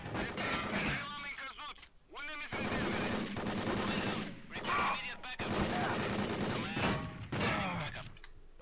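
Video game gunfire crackles in dense, sustained automatic bursts broken by short pauses, with a voice talking excitedly over it.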